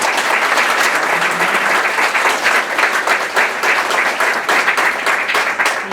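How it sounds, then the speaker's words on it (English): A live audience gives a loud, sustained round of applause, many hands clapping in a thick continuous roar that holds steady without pause and with no voices over it. "let's give Becky Kagan a shot on this round of applause"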